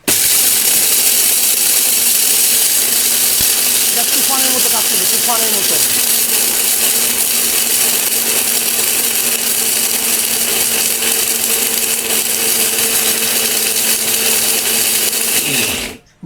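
An Orpat 2000W blender grinds a kilogram of chickpeas into gram flour with a loud, continuous high whine that holds steady for about sixteen seconds, then cuts off abruptly.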